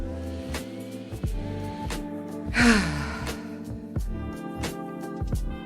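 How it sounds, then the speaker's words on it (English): One slow, deep breath taken mid-clip, soft and close, over gentle background music, with no talking. "One more deep breath here."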